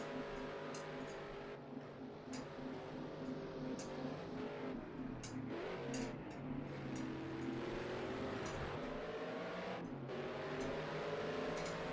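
Race car engines roaring continuously in a night race at Snetterton in a sim racing game, a steady loud drone with rising and falling revs and no talking.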